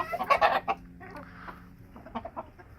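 Game fowl in a coop, a group of hens with one rooster, cluck in a short burst that is loud at first, then fades to softer scattered clucks nearby.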